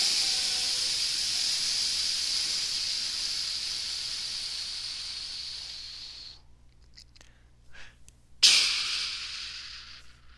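A voice imitates a steampunk steam elevator with a long, loud, breathy hiss that fades over several seconds, then a few soft puffs and a sudden sharp burst of hiss.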